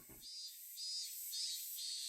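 A cicada chorus from the game Higurashi: When They Cry forms a shrill, continuous high drone that swells and fades in slow pulses, with no other sounds, after a brief low thump at the start.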